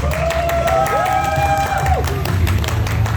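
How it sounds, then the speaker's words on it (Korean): A crowd claps and cheers in a large space at a Tekken esports tournament final, with a whistle-like tone sliding up and down early on. "박수 한번 보내주세요"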